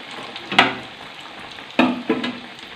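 Chicken martabak frying in a pan gives a soft continuous sizzle with a few sharp bursts of spatter or stirring, heard close by and without talk.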